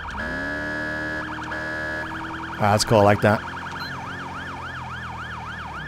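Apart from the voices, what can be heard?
police siren tones from the video game GTA 5 LSPDFR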